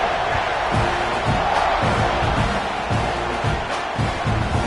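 A loud stadium crowd cheers and roars at kickoff in an NCAA college football video game, a constant wall of noise with rhythmic thumping pulses beneath it.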